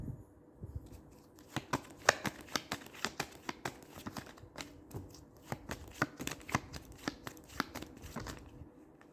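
Tarot cards are shuffled by hand in a quick run of crisp riffling flicks and soft slaps, close and fairly quiet, with a brief low thump at the start.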